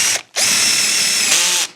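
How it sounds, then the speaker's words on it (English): A Kimo hammer drill on a low speed setting gives a brief whir, stops, then restarts into a steady, loud, high-pitched whine for over a second before winding down. "see if that's going to basically bog down whenever we try to drill through"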